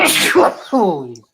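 A single sharp sneeze bursts out close and loud, with a short harsh exhale, followed right after by a brief voiced groan or sound from a person.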